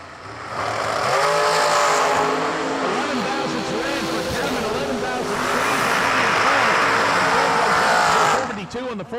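Dragsters launch down a drag strip at a New Year Nationals meet, including an American chassis dragster, giving a loud sustained engine roar through most of the run while an announcer talks over it.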